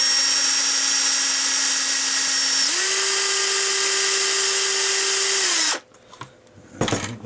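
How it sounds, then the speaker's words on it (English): A small power drill whines steadily at high speed boring through wood, its pitch dropping briefly partway through, then cuts off, followed by a couple of faint knocks. "Don't bear down too much with these, because these drill bits break."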